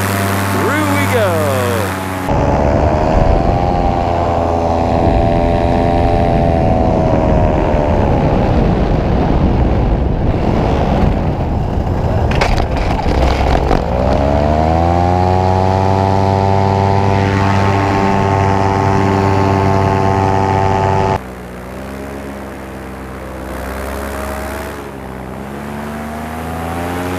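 A 2018 paramotor air trike's propeller engine roars at full throttle through takeoff, a loud, steady droning buzz with rising harmonics, close to the microphone, dropping abruptly to a lower idle near the end.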